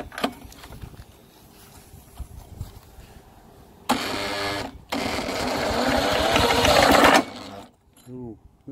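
Dirty old Rover lawnmower engine being cranked: a quiet rattle and brief voice, then two bursts of loud rough churning as it tries to catch, the second running a few seconds before cutting out, followed by a short spoken remark.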